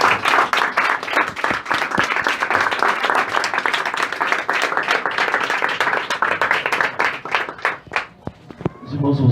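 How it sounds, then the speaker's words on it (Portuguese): A church congregation claps together, loud and dense rapid applause filling most of the stretch, some voices mixed in, before the clapping thins and breaks off near the end. "Aplaudam."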